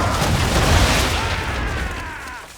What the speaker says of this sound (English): aim all guns at her bow and do as much damage as possible